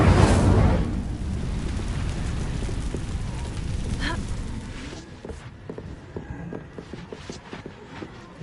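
A burst of flame from the Incendio fire spell in Hogwarts Legacy flares loudly, then a steady roaring crackle carries on before thinning into scattered pops and thuds.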